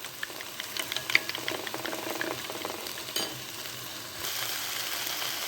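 An okra omelette fries in a pan, giving a continuous soft sizzle and crackle at low level with a few faint scraping stirs.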